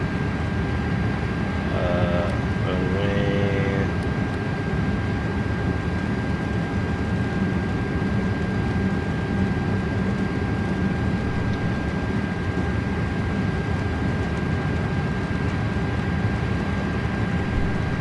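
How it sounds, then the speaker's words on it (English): Loud, steady roar of an Airbus Beluga XL auxiliary power unit in Microsoft Flight Simulator 2024, a constant broadband drone with a steady whine, running alone without pause and a brief chirp near the start. "I don't know why the APU is so loud, but it's very loud"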